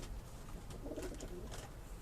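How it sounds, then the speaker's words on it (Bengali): A pair of Giribaj pigeons coo softly in a quiet setting, low throaty murmurs rising briefly and faintly against a hushed background. "খুব সুন্দর এক জোড়া কবুতর।"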